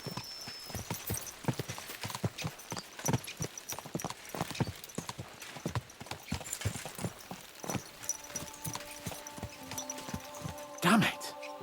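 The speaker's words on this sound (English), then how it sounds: "Let's really spur these horses on, eh?" Horse hooves galloping in a video game, a brisk, steady clip-clop that runs through the whole stretch, with a whinny near the end and voices over it.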